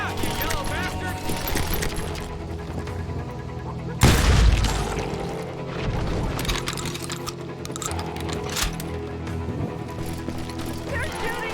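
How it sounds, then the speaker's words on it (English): Gunfire in a Wild West street in Call of Juarez Gunslinger, one heavy booming blast standing out among scattered shots and mechanical clatter, heard under ongoing voices and music. "They're shooting in the street."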